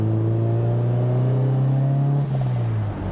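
Honda CRX turbo engine droning steadily at cruise, with a short airy hiss of the blow-off valve releasing near the end.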